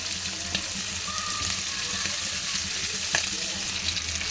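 Potato pieces fry in hot oil in a kadai, a wok-style pan, giving a steady, close, even sizzle that hisses throughout with a few brief crackles and clicks.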